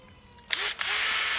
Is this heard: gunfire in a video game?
no